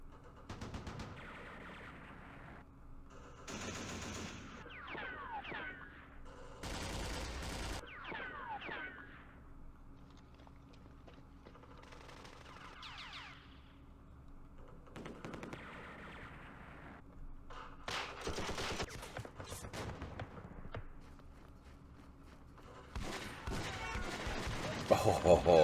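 Machine guns fire in Campaign Series Vietnam during the Battle of Khe Sanh Village, 1968, in repeated sharp bursts and rattling volleys. The shooting is separated by short pauses over a steady low background and grows busier toward the end.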